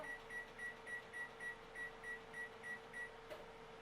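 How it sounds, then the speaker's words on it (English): An oven timer beeps steadily, about a dozen short evenly spaced electronic tones over a low appliance hum, fairly quiet with no talking. "I'm going to put the timer on for 15 minutes also."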